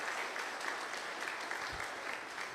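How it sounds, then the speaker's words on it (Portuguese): An audience at a pork market conference gives a round of applause for the producers, dense steady clapping throughout at a moderate, slightly distant level. "Uma salva de palmas para os produtores"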